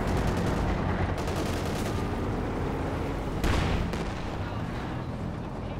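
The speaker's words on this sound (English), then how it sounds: "it looks like the light artillery barrage basically alone cleared that out" Light artillery barrage in Company of Heroes 2, a loud continuous roar of overlapping blasts and rapid gunfire, with a sharper close crack partway through and no voices over it.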